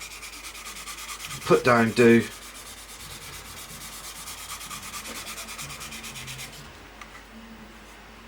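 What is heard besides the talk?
lightly sanding raised part of plastic model kit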